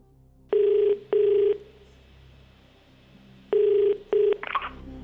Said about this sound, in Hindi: मनीष मोहन जी दिल्ली में फोन लगाया जाए।